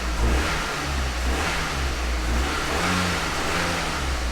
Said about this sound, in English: And let's give it a quick rev. See how it responds to throttle.